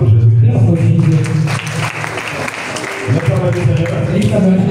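A church congregation clapping and loudly acclaiming Jesus Christ, with voices shouting and singing over steady applause throughout.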